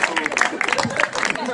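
An audience at an opening event applauds in a brief burst of dense, close clapping with crowd noise mixed in.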